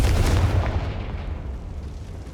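A Confringo blasting spell explosion in Hogwarts Legacy lands as a heavy, close boom that rumbles and fades away over about two seconds.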